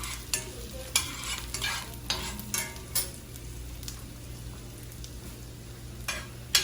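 Chicharrones sautéing in a pan, a quiet continuous sizzle punctuated by sharp stirring clicks and scrapes every second or so, with a steady low hum underneath.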